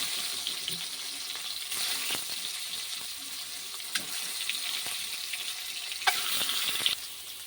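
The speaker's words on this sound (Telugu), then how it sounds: "వీటిని నెమ్మదిగా తిప్పుతూ కలుపుతూ ఫ్రై చేసుకోవాలి" Boiled eggs being stir-fried in a salt and chilli mix: a continuous close sizzle with occasional spatula scrapes and taps against the pan, steady and moderately loud, no voices.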